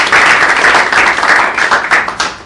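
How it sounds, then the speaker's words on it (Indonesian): Audience applause at an event introducing a music advisor, loud close clapping from a crowd with uneven rhythmic peaks, fading slightly toward the end with no talk over it. "Kita tepuk tangan dong buat."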